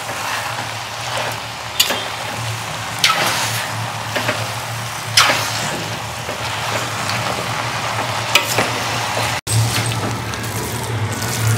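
Egg and chicken hakka chow mein noodles are stir-fried with a slotted ladle in a loud, steady sizzle, with repeated scraping strokes of the ladle every second or two.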